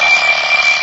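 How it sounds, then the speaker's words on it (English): A wind-up alarm clock rings as a radio comedy sound effect, a steady, continuous metallic ringing that fills the whole short moment, loud and close with no voices over it. "Darned alarm clock."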